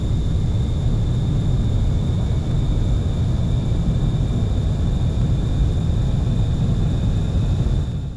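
Steady, loud jet engine roar of a military jet taking off down a runway in a flight video game, a continuous broadband rumble with a high whine on top, holding level throughout with no voices.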